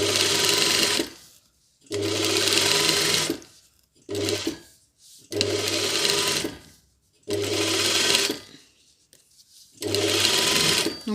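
A sewing machine runs in straight stitch along a sweatshirt collar, in five bursts of steady whirring of about one to two seconds each, with short quiet pauses between them.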